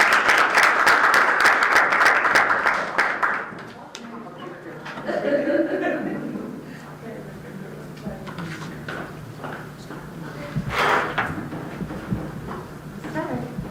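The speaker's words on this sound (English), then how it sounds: "Let's give her a round of applause." Audience applause at a community roundtable: loud clapping from a crowd for about three seconds, then fading into scattered claps, murmuring and room noise with people talking.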